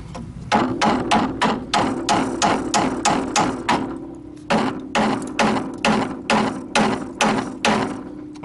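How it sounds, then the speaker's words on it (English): A hammer taps repeatedly on the camber caster bushing of a Ford F250, giving loud, close, evenly spaced metallic blows in two quick bursts separated by a short pause. "Hopefully I don't lose you off there when I start hammering."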